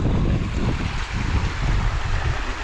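Dain Thlen waterfall near Cherrapunji (Sohra) roars from close range, a dense, steady rush of falling water filling the air without a break.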